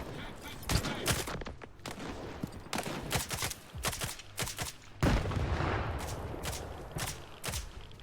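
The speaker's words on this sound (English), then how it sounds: "I don't know where the fuck I'm being shot from." Gunfire in S.T.A.L.K.E.R. 2: Heart of Chornobyl, with many sharp shots at irregular intervals, some near and some more distant, over a rumbling background battle.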